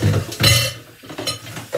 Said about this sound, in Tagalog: kung magbugas ako ng pinggan ay ganito